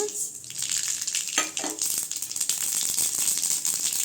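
Mustard seeds crackle and sizzle in hot oil in a heated pan, a steady bright frying hiss with a few sharper pops near the start, close and continuous with no talking.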